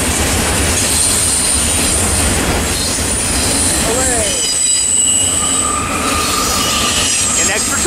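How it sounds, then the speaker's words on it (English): A train rumbles past close by, wheels squealing and rails clattering loudly and continuously throughout; a Norfolk Southern–powered train with a Dash 9 lead locomotive. "An extra train out of the mix"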